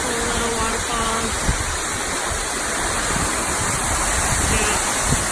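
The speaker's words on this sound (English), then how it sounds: "We got a couple of little waterfalls." Small waterfalls on a crystal-clear stream along an Oregon hiking trail make a steady, loud rushing roar that runs without a break, with a few faint tones and soft knocks underneath.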